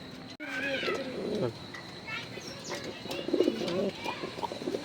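Racing pigeons, including a tiger grizzle, coo repeatedly with a few soft chirps and wing flutters, close and moderately loud, with faint voices in the background.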